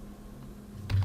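A computer keyboard being typed on to enter a terminal command, faint close key clicks under a low steady hum, ending in a louder knock, no talking.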